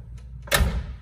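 Door of a 1969 Chevrolet Camaro SS pro touring car with an LS3 engine shutting with a single solid, heavy thud up close, after a brief quiet moment.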